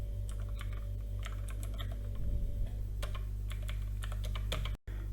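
Steady keyboard typing, bursts of quick key clicks with short pauses, close by over a constant low electrical hum.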